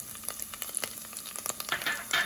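Bay leaves, cloves and cinnamon sizzle in hot oil for a Punjabi chicken curry, a steady frying crackle with frequent sharp pops and spits close by, no talking.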